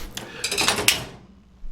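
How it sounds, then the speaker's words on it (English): Drawer of a Harbor Freight 56 inch tool box base sliding open, a close metallic rattle with a latch click, fading out quickly. "that's how you open the drawers"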